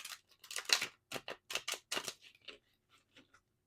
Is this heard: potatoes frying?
no